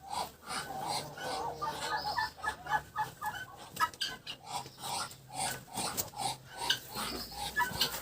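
A brooding duck sitting on her eggs makes a run of soft, irregular hissing and grunting calls at close range in a quiet shed, with faint bursts of rustling between them.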